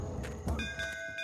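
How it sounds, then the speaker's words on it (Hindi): A temple bell rings with a clear sustained tone that lingers after a few soft knocks and shuffling sounds; brief and fairly faint. "घंटी बजी।"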